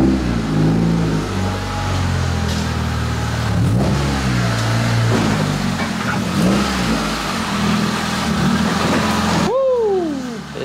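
A turbocharged Mitsubishi Evo with a SOHC 4G93 engine on stock internals and a stock ECU, running 17 psi of boost, revs on a dyno in a shop, loud and close, rising and falling repeatedly before a final rev sweep.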